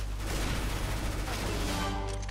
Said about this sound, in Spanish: Vamos a ir con la P90.